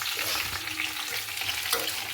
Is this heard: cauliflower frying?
yes